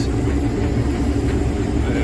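Case 5088 axial flow combine harvester working uphill while cutting organic spring barley, its engine under heavy load giving a loud, steady, unbroken drone from start to finish.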